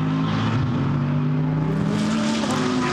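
GT race cars in Blancpain GT Series qualifying at Misano drive the track while warming their tyres, a continuous loud engine roar with layered tones from several cars close by.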